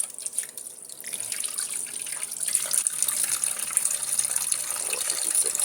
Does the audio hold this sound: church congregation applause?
no